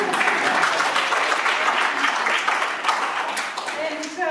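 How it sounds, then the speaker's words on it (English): Festival crowd applauding after a finale, dense steady clapping through most of the stretch, tapering slightly near the end, with some voices mixed in. "he deserves really the biggest round of applause"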